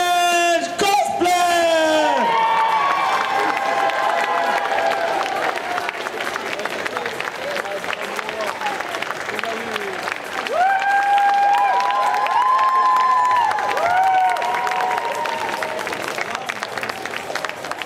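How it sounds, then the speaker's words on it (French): A cosplay contest audience at a geek convention breaks into loud, sustained applause with cheers, whoops and shouts, while an amplified announcer's voice calls out over the crowd. "un tonnerre d'applaudissements pour nos vainqueurs"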